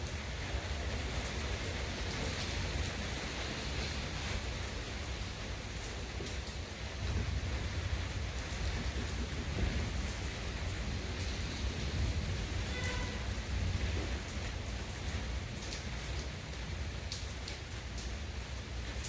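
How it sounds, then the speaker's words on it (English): Steady rain falling outside a guitar-building workshop, a constant dense hiss with no talking and no breaks. "I love it when it rains."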